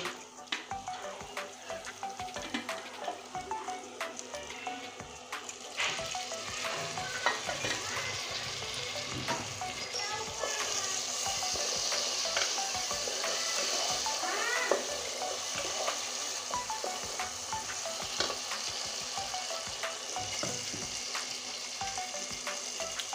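Spice paste for a fish curry fries and sizzles in hot oil while a spoon stirs it, with steady crackling and occasional scraping, close and fairly quiet, growing a little louder partway through.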